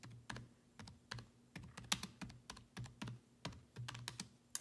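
Rapid, irregular clicking of keys on a computer keyboard, close and fairly quiet, with bursts of keystrokes and short pauses, no talking.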